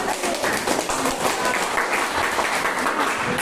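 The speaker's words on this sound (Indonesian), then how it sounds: "Tepuk tangan dulu untuk kelompok 1" Classroom applause for the first student group during a teaching practice lesson, a steady wash of clapping from many hands throughout, with some voices mixed in.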